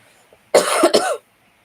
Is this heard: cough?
yes